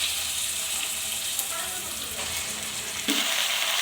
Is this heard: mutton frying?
yes